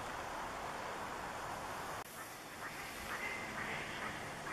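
Ducks quack near a river in Totem Park, Sitka, a few faint, repeated calls at a distance over a steady background hiss of moving water, with no talking.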